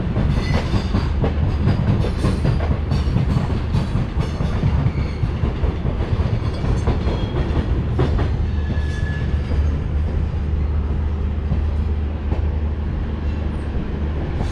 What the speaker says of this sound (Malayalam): നമ്മളങ്ങനെ വഡോദര ജംഗ്ഷൻ റെയിൽവേ സ്റ്റേഷനിലേക്ക് എൻട്രി ചെയ്തുകൊണ്ടിരിക്കുകയാണ്. വളരെ മന്ദം സ്പീഡ് കുറച്ചിട്ടാണ് പോകുന്നത്.